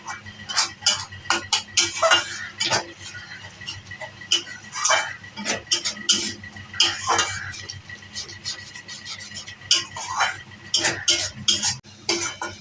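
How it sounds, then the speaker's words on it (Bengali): A spatula scrapes and clatters against a metal kadai as a spice paste of turmeric and water is stirred and fried for omelette curry, with close, irregular bursts of metallic knocking throughout. "এখন ভালো করে নাড়িয়ে কষিয়ে নেব।"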